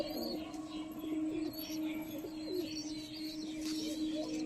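Punjabi Malbai pigeons coo in low, repeated throaty phrases, soft and steady, with faint chirps and a quiet background hum.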